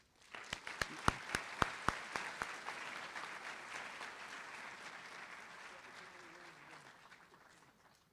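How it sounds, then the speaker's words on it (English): Audience applause for the chancellor at a medical school white coat ceremony: a few sharp, loud individual claps up front, then broad steady clapping from a large hall that slowly tapers off. "Please join me in a very well-deserved round of applause for our Chancellor, Dr. Modica."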